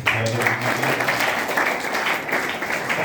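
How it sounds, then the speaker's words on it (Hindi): Loud audience clapping at a school literary gathering at Kendriya Vidyalaya, a dense, continuous burst of many hands close by that holds steady to the end. "एक बार जोरदार ताली"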